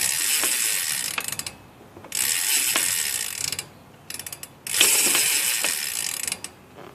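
A ratchet tightens the compression bolts on a three-piece BMX crank, giving close, rapid clicking in several bursts separated by short pauses, with no talking.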